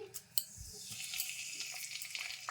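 Bay leaves crackle and sizzle in hot oil in a home kitchen while gur mango pickle is made, a steady close frying hiss with a few sharp pops near the start and no talk.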